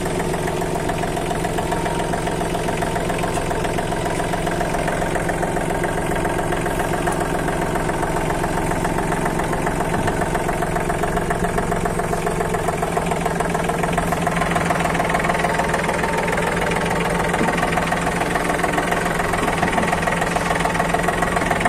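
A John Deere 3036EN four-wheel-drive tractor engine idles continuously in neutral, a low rumbling drone with a faint knocking chug, close and unchanging with no voices.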